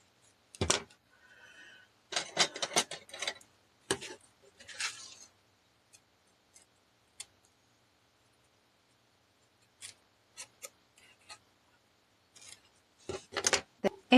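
Scissors trim paper for a handmade card in several short snipping bursts of quick crisp cuts, close and clear, separated by quiet pauses and a few light handling sounds.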